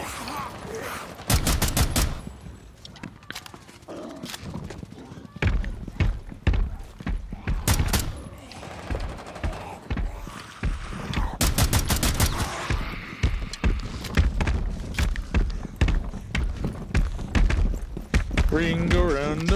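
Bursts of automatic gunfire and single shots from a Rainbow Six Siege match crackle loudly in clusters, with voices talking over the shooting throughout.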